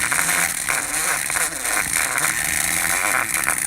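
A hand grinder cuts away excess elastic material during a detailing job, giving a loud, continuous high-pitched buzzing whine that holds steady throughout with slight dips in load.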